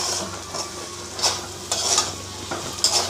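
Semolina and vegetables fry in a pan under a soft steady sizzle, broken by several distinct scraping stirs of a spoon against the metal, close and clear with no talking.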